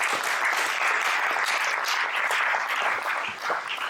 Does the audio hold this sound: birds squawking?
no